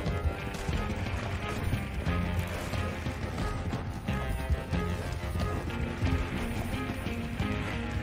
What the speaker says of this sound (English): Oh wow, they come out on horses.